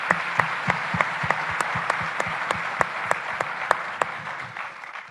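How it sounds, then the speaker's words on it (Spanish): Audience at a seminar giving a big round of applause, quick sharp claps in a steady patter that stays fairly even before tapering slightly at the end. "Yo primero quiero comenzar con que todos se den un gran aplauso."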